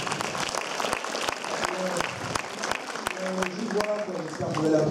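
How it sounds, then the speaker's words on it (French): Applause from the audience at a film premiere, with sharp individual claps amid a crowd and voices talking underneath, growing slightly louder toward the end. "Vous pouvez l'applaudir."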